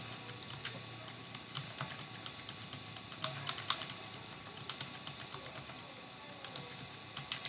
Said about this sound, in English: My keyboard's so loud.